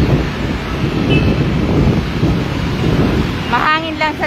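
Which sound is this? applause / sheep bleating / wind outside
wind outside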